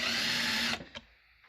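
A power drill with a small bit runs steadily and loudly up close for under a second, then cuts off, leaving a few faint clicks and knocks.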